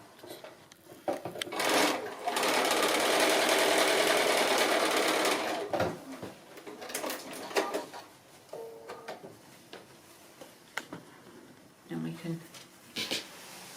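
A sewing machine stitches a Santa costume sleeve cuff in one long steady run near the start, followed by lighter handling clicks and fabric rustles, with a voice speaking briefly between sounds.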